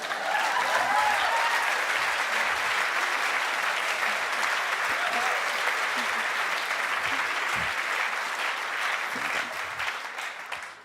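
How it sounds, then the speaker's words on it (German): Steady, dense applause from a comedy show audience fills the full stretch, loud and even with no pauses, then thins slightly near the end. "Jetzt dürfen sie klatschen."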